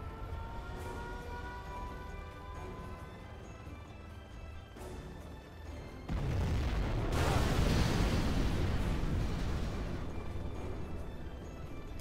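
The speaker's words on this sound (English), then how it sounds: "We have launched our nuclear missile." A nuclear missile strike in the real-time strategy game C&C Generals Zero Hour erupts with a loud, sustained roaring blast that swells suddenly midway and rumbles on heavily, following a stretch of steady battle noise.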